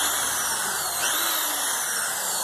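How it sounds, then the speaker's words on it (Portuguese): Power drill boring holes in bamboo tripod legs, a steady, loud, high-pitched motor whine held for the whole moment without pause. "Aí, eu vou furar os três iguais."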